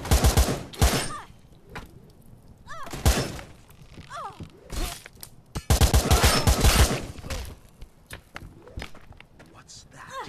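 Sharp, loud bursts of gunfire from a gun in the VR game Blade & Sorcery, several shots and rapid volleys scattered over the clip, with thuds and impacts between them.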